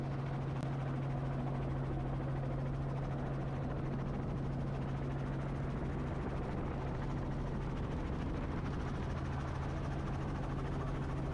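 A helicopter flies steadily throughout, its rotor and engine drone strong and continuous, lifting off for darting a rhino on a conservation safari in South Africa.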